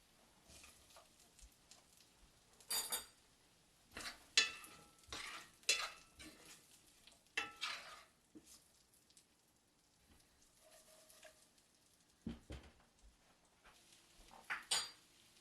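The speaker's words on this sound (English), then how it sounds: "it is time we are gonna start to layer in these beautiful potatoes" Potatoes are laid into a hot pan of chorizo, giving a soft, crackling sizzle. Intermittent scraping and clattering of a utensil against the pan come in several loud bursts, with quieter frying between them.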